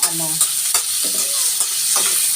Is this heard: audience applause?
no